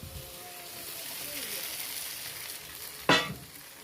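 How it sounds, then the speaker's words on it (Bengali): Chow mein noodles with egg being stirred in a hot pan, a steady close sizzle of frying with scraping stir sounds and one sharp clatter near the end. "তো চলো আগে চাউমিনটা ভালো করে নাড়িয়ে নিই, না হলে সব কটা না দলা দলা হয়ে যাবে।"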